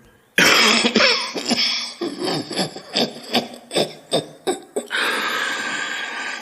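A series of harsh, repeated coughs in quick succession, loud and close, with a rough rasping quality, ending in a sustained breathy noise.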